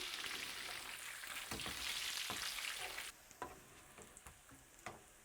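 Pork cracklings frying in a pan, a loud steady sizzle that drops off halfway through into sparse crackles and pops, heard alone with no talking.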